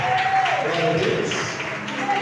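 A church congregation claps together in a dense, crackling patter that resembles popcorn popping in a pan. Voices carry over the steady clatter throughout.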